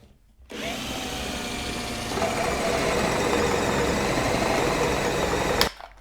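Cordless drill pre-drilling a hole, a steady close whirring motor that starts abruptly, rises in pitch partway through, then cuts off near the end.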